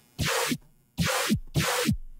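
Three harsh, noisy Serum synth bursts, each with a washed-out, super-detuned gritty growling tone that bends downward, spaced evenly apart and played loud and close.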